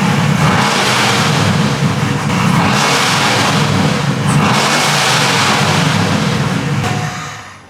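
A supercharged pickup truck engine revs hard and loud, a sustained roaring drone that swells and holds for several seconds before dropping off at the end.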